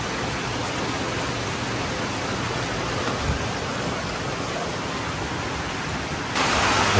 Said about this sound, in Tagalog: Yan, ang ulan na dito.